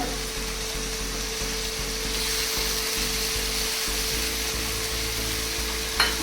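Tomatoes and finely grated ginger frying in a pan for pav bhaji, giving a steady, loud sizzle with a faint clink near the end and no talk.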